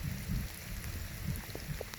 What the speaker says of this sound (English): Look how beautiful it is, even in the rain, right?